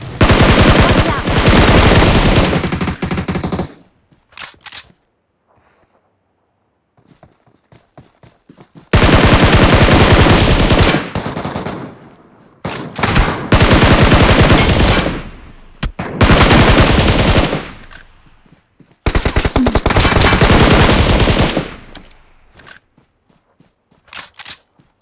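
Machine gun fire from the video game PUBG comes in several long, loud bursts of rapid shots with quiet gaps between them and a few fainter single shots and clicks.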